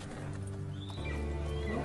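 Horse hooves clip-clop in a steady rhythm at moderate distance, with a low rumbling background and no speech.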